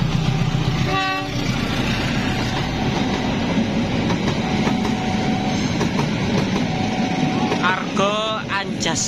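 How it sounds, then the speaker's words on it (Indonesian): Argo Anjasmoro passenger train rushing past on an Indonesian line, a continuous loud rolling roar of wheels and wagons close by, with horn blasts at the start and near the end. "Argo Anjasmoro teman-teman."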